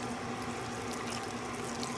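Buttermilk being poured into a bowl while cooking, a steady, soft liquid stream with continuous low hum beneath, close but faint.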